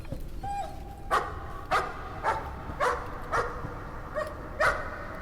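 Dog barking inside the horror video game Layers of Fear, a steady series of about seven sharp barks spaced roughly half a second apart, clear and prominent over a low ambient hum, starting after a brief whimper.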